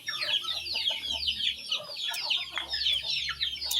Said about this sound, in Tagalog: Yung mga manok ba